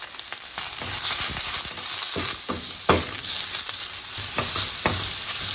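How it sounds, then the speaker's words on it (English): Shallots and minced garlic sizzle steadily in olive oil in a pan over medium heat, a close, continuous frying hiss broken by scraping stirs and light taps. "I'm just gonna add a little bit of olive oil, and then 2 shallots, and like a 1/4 cup of minced garlic."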